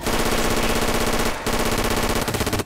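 Rapid automatic gunfire in the video game Left 4 Dead 2, loud and close, in a continuous stream of shots that breaks off briefly before resuming.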